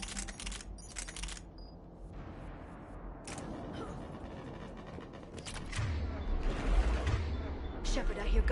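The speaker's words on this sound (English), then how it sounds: "I hear gunfire." Bursts of rapid gunfire in the video game Mass Effect 3 crackle in short volleys, fairly distant and mid-level, with a deeper rumble building toward the end.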